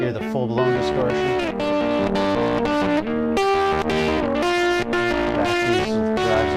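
Electric guitar pushed through a Radial Space Heater at full drive, ringing heavily distorted chords and sustained notes with a rich, saturated tone and continuous playing.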